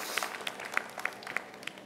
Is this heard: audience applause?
yes